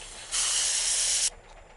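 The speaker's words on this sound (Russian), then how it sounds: "Воздух спускает." A steady, loud hiss of air escaping from a truck tire on a winter ice road starts abruptly, holds for about a second, then cuts off sharply, leaving quiet background.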